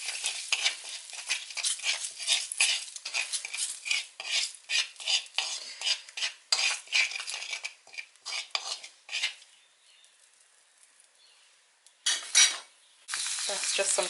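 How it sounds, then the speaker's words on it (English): Garlic and thyme are stirred into curry powder sizzling in a pan, a busy run of metal spoon scrapes and clinks over steady frying hiss, close and loud, pausing briefly before the scraping resumes. "That's just some garlic and thyme being added to the curry powder."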